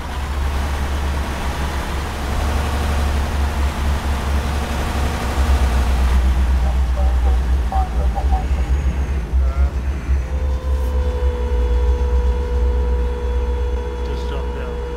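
A tank engine in a military video game drones steadily with a loud low rumble throughout, its pitch shifting partway. Radio-style voices talk over it.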